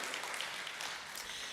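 A church congregation applauds during a Sunday service at Unity of Nashville, a dense, even wash of many hands clapping together, heard at a moderate distance with no talking over it.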